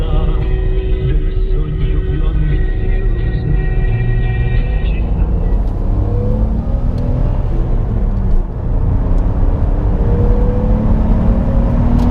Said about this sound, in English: Thanks for riding along with me in the M Coupe.